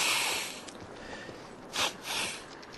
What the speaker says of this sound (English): That was a nice sniffle there.